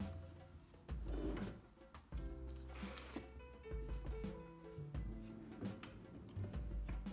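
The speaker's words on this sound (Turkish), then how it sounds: "Diğer çekmeceyi açtığımız zaman" A desk drawer in a dorm room in China is pulled open, making sliding wooden scrapes and soft knocks in a couple of short bursts, close and fairly quiet.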